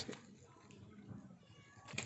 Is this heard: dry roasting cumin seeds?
no